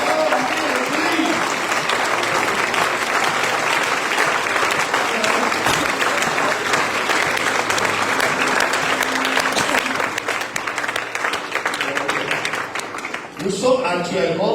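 A church congregation claps and cheers to acclaim God, dense sustained applause filling the room for about ten seconds before thinning out near the end, with a voice speaking over the last moments.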